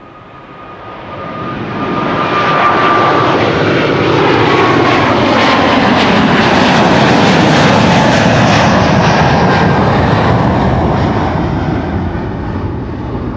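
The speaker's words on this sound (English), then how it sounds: "over here we have KLM Flight 592, which is going to go to Cape Town in South" KLM Flight 592, a fixed-wing airliner bound for Cape Town, departs Amsterdam Schiphol with a loud, steady engine roar that swells within the first seconds, holds strongly, then eases slightly toward the end.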